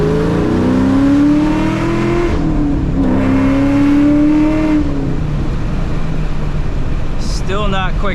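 A loud Ford Mustang Cobra engine revs up in second gear, the rising whine climbing then dropping as it shifts, with someone talking over the engine noise at close range.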